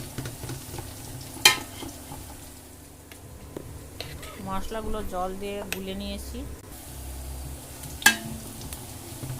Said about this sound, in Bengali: এদিকে পেঁয়াজটা ভাজা চলছে, লাল লাল করে ভেজে নেবো একবারে